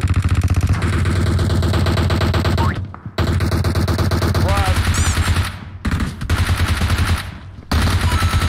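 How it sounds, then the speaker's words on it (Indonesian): Loud, rapid automatic gunfire in PUBG Mobile rattles in long sustained bursts broken by brief pauses, with an engine-like drone underneath and a voice talking at times. "Ada yang nembakin"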